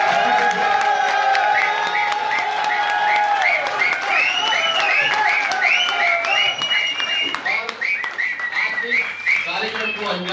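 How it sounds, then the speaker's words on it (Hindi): Loud applause and cheering from a large crowd at a company celebration, sustained for the whole stretch with whoops and shouts rising over the clapping. "जोरदार तालियां"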